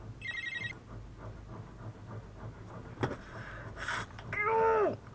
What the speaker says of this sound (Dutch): En dat is een telefoon.